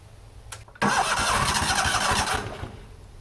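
A neglected 1998 Yazoo YTKC22 three-wheel mower engine with a suspected fuel pump fault cranks loudly and steadily for a couple of seconds after a brief click. The churning then fades without catching, and no one speaks.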